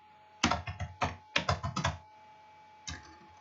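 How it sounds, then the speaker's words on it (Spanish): Someone types a password on a computer keyboard in quick bursts of crisp keystrokes, two clusters of rapid taps, a pause, then a final key press. "Entonces digito mi contraseña."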